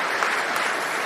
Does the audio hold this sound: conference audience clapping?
yes